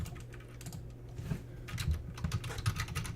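Typing on a computer keyboard while working in a text editor on a Windows 10 PC, a steady run of close, soft key clicks over low background hum, with no talking.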